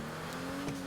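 Benefactor Vorschlaghammer engine in GTA Online during reckless driving and drifting, a short steady engine hum with faint rising rev, at moderate level.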